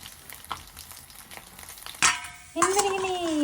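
Masala fish fries in a pan with a soft steady sizzle, with a few clinks of a utensil against the pan. Louder bursts of frying and a sustained ringing tone follow partway through.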